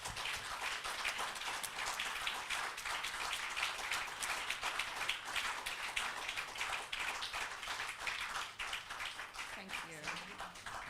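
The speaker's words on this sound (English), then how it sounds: "Shall we please give him a round of applause as he comes up?" Audience applause for a panelist walking up at a Planetary Liberation Day 2021 event, a steady spatter of many hands clapping, fairly distant and even, continuing throughout, with a speaker's voice briefly at the end.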